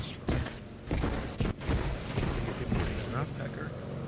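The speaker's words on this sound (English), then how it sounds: "No, I hear gunshots." Gunfire in a role-play video game, several sharp shots and bursts scattered through the stretch, with a voice talking over and between them.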